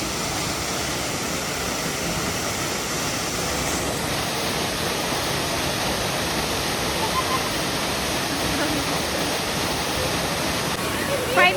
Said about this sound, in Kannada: ಇದು ಫಾಲ್ಸ್.